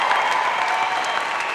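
Loud, steady applause fills a university fall undergraduate commencement ceremony, a dense unbroken roar of clapping from a large crowd.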